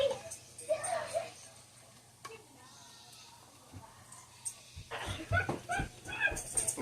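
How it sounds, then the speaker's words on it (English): A dog yips, whimpers and barks in the background while boys play with it indoors, coming in short bursts and rising near the end, with a person talking over parts of it. "I got the boys playing with the dog back in the background"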